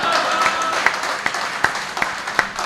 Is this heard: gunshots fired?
no